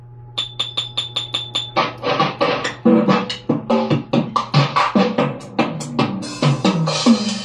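A keyboard percussion patch plays quick struck notes, first a light repeated tapping, then a busier run of bright mallet-like hits, alone and clear.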